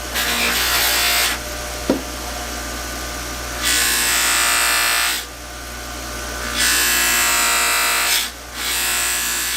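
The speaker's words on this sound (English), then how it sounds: "Now we're going to give it a little buffing with some white compound and see what that does." A bench buffing wheel with white compound polishes a factory bolt, its steady motor whine rising and falling as the bolt is pressed on and lifted away in several passes.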